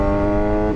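A Suzuki GSX-R 750 sport bike fitted with a Blackworks full exhaust revs loudly and close, a brief dense engine roar held for under a second with no talk over it.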